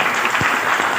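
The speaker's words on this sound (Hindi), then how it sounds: "बेटी बाबू के लिए ताली बजा दीजिए" An indoor audience at a seminar claps together in a dense, steady burst of applause, loud and close, with no pause.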